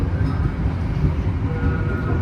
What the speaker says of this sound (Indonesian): kereta api Sri Tanjung berangkat dari stasiun Wonokromo